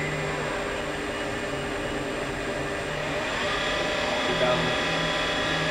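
Southwestern Industries CNC vertical mill spindle ramping up in speed toward a 4,000 RPM maximum: a steady, fairly quiet mechanical whine with faint tones that rise gradually over several seconds against a constant broadband hum.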